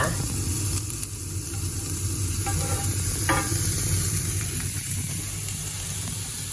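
Minced beef for Swedish meat patties stir-frying in a hot pan, a continuous loud sizzle and hiss with occasional scraping stirs, close and steady throughout.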